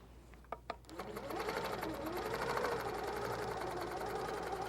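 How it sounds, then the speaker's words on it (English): Quilting sewing machine stitching along a swag template on a quilt, a fast steady hum of needle strokes starting after a couple of brief clicks and running continuously up close. "you're going to stitch going the opposite direction"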